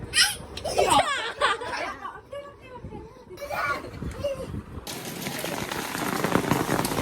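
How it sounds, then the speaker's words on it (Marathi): Hard rain hisses loudly and evenly, swelling into a dense downpour midway, while voices talk and call out over it. "आणि पाऊस आला जोरात"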